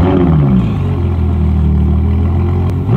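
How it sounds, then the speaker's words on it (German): A Ferrari 812 Superfast with a 6.5-litre V12 runs loud and close, its deep engine tone dropping from a revving rise into a steady, throbbing idle. "Start the engine."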